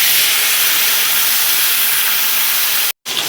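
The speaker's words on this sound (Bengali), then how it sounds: "তেলের মধ্যে এই কাচ্চি মাছগুলোকে বেশ কড়া করে একটু ভেজে নেব" Small kachki fish fry in hot oil with a touch of turmeric, giving a loud, steady sizzling hiss that cuts out abruptly for a moment before resuming.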